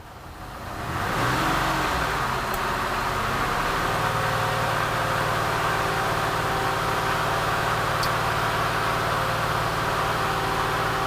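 A car engine under diagnosis with an automotive lab scope starts up and is raced, then holds a loud, steady high-revving drone close by for several seconds.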